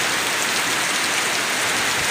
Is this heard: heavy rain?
yes